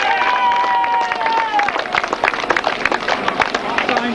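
Grasstrack meeting crowd clapping and cheering for the fifth-placed sidecar pair, a rattle of applause with whoops, while an announcer talks over it through a PA.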